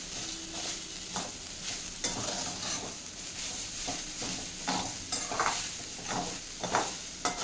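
Raw banana fry with fresh coriander stirred in a pan: a soft continuous sizzle under frequent scraping and clinking strokes of a spoon against the metal, fairly quiet and close, with no talking.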